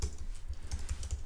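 Rapid typing on a computer keyboard, a quick close run of soft key clicks in an uneven rhythm, faint and alone.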